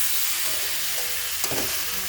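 Masala paste frying in a pan, with a steady close sizzle and hiss and a brief stir scrape partway through.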